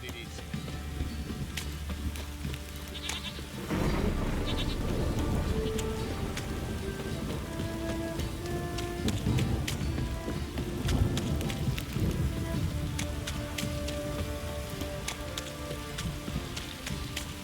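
A steady rain downpour patters and hisses across surfaces in The Witcher 3, with low thunder-like rumbles and game ambience layered in. The rain grows fuller after a few seconds and continues without speech.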